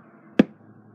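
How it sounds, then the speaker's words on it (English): A single crisp snip as powerful scissors cut into an eraser, sharp and close against near silence. "These are, like, really powerful scissors."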